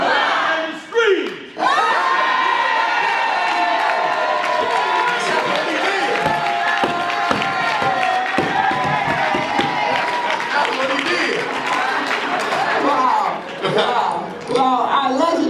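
Concert audience at a hip-hop panel event cheering, screaming and clapping loudly throughout, a dense sustained crowd roar with a brief dip near the start and rises of shouting.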